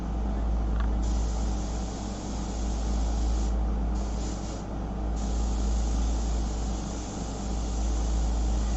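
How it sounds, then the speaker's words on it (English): A steady, continuous hiss of an airbrush test-spraying onto shellac-covered paper, close and fairly loud, with brief dips as the spray pauses twice. "I'm going to do a little test spray."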